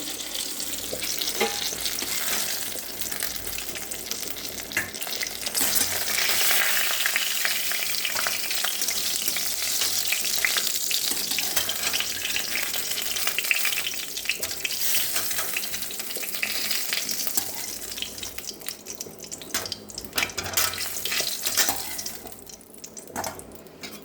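Brinjal (eggplant) frying in oil in a pan makes a loud, continuous sizzle that swells and eases, with faint stirring scrapes, close up and with no talking.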